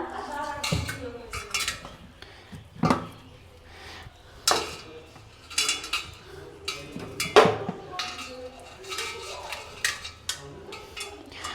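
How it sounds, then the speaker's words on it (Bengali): Large chunks of meat are cut into smaller pieces on a boti blade in a home kitchen, giving irregular sharp chops and clinks of metal and dishes at close range, with brief pauses between strokes. "আমি একটু সুন্দর করে সাইজ করে নিচ্ছি মাংসগুলা"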